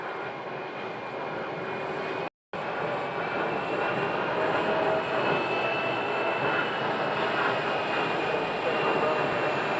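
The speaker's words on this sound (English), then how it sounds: "American 2938, landing from Newark, New Jersey" An American Airlines airliner from Newark lands at Phoenix, a loud, steady broadband jet roar that sustains without letup, with a brief dropout near the start.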